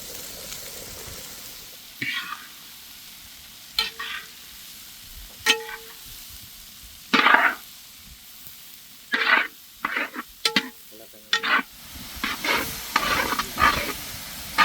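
Cabbage being stir-fried in a pan for Kadappa-style poriyal, heard as short bursts of scraping and tossing with a light sizzle between them and quiet pauses.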